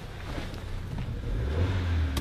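Renault Megane Sport RS engine running steadily close by, a continuous low rumble that rises slightly in the latter half, with no talking.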